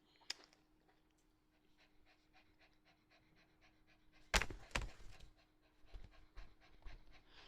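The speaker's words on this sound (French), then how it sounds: "Désolée, Canel souffle" A dog pants rapidly and rhythmically close to the microphone in an indoor room, the breaths light and regular at first, then louder thumps and movement noises join near the end.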